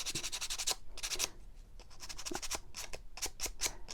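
Sandpaper rubs back and forth by hand across painted wood in quick, rhythmic strokes, close and scratchy, pausing briefly before the strokes resume.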